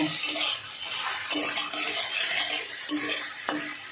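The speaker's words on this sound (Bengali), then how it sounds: "একটু লতিটা ভাজা ভাজা করব।" Taro stolons (kochur loti) stir-fried in a pan for a vegetarian spicy chorchori, with a steady close sizzle and repeated scraping spatula strokes against the pan, no talking.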